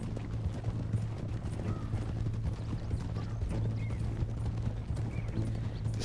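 Horse hooves clip-clop steadily in Red Dead Redemption 2 as a rider travels toward a bank robbery, the rhythmic footfalls sitting over a low constant hum with an occasional faint whinny.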